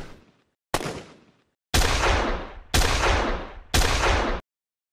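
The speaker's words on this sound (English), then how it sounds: "There's our medium range gunshot." Medium-range gunshot sound effect in Unreal Engine 5, five loud blasts at roughly one-second intervals, each with a heavy, sustained reverberant tail that cuts off abruptly, heard without any talking.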